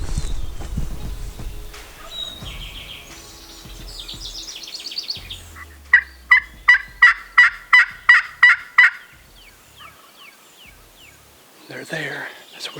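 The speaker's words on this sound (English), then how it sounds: "At least they're gobbling though." Wild turkeys gobbling in the distance during a late-season hunt, a rapid series of about eight rattling gobbles in the middle, with soft talk nearby before and after.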